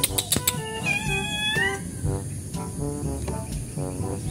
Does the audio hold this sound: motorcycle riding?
no